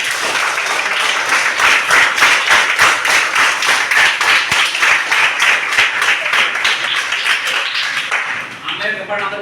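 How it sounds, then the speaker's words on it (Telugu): An audience of children at a motivational talk claps loudly and continuously in honour of mothers, a dense, steady burst of many hands that carries on for about nine seconds before thinning out at the very end. "అమ్మకు గట్టి క్లాప్స్ ఇవ్వండి"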